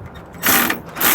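A 9/16 socket wrench ratchets close up while tightening the clamp bolts of a Roadmaster Exact Center steering stabilizer, making two short bursts of rapid mechanical clicking with a brief pause between them.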